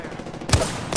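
Video game gunfire: two quick, punchy shots about half a second apart, heard close over a steady background wash.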